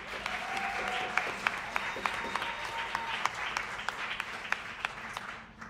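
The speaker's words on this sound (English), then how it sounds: "I think you ought to give yourselves a round of applause" A small audience clapping after a student jazz combo performance, a modest scattering of hand claps with distinct individual claps, fairly close, with faint voices underneath.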